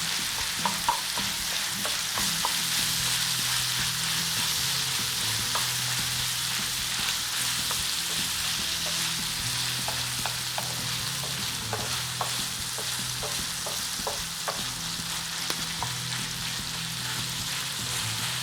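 Liver (tawa kaleji) with green chilies fries on a griddle, a constant close sizzle punctuated by repeated spatula taps and scrapes as it is stirred, with no talking.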